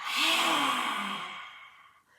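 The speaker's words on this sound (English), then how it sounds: "You're going to stick out the tongue and create this little lion's breath here, or lioness breath." A single long, breathy exhalation pushed out through an open mouth with the tongue extended, close and fairly loud, rushing at first then tapering away over about two seconds, with no talking.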